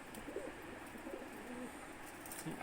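A Kanne-breed pigeon coos in a low, soft, repeating murmur over a steady noisy background, fairly faint and without any voices.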